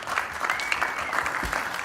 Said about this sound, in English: Y'all stand up. Give it up for Regis